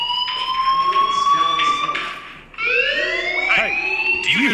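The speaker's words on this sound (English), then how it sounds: "Do you hear that fire alarm? That means you should be outside." A fire alarm ringing in the game Life Is Strange, a loud close electronic tone that sweeps and pulses, briefly dropping out before resuming with overlapping warbling tones.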